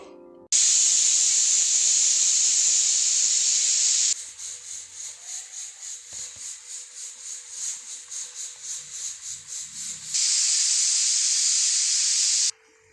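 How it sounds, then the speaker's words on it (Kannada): Loud steady hiss of a pot of salted water boiling, dropping to a softer bubbling, pulsing rumble in the middle before the strong hiss returns. "ಇವಾಗ ಇದು ಕುದೀತಾ ಇದೆ"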